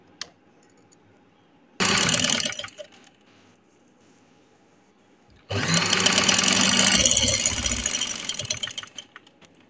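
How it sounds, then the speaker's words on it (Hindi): Sewing machine stitching the edge of a folded sleeve, heard in two bursts: a short run of rapid needle clatter, a pause, then a longer steady stitching run, close and alone. "सिलाइयाँ मैंने लगा ली हैं।"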